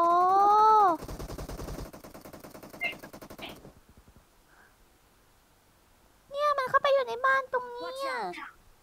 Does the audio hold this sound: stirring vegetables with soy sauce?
no